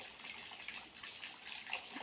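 Steady rushing of rainwater running through village canals in a rain-soaked rural area, a faint, continuous gush with slight swells and no talking.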